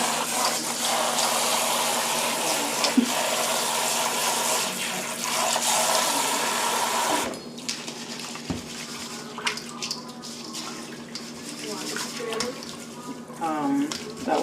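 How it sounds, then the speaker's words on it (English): Rice being washed for Jamaican rice and peas: running tap water gushes steadily into a bowl for several seconds, then cuts off, leaving softer splashing and swirling, with people talking over it. "So here we're going to just wash the rice."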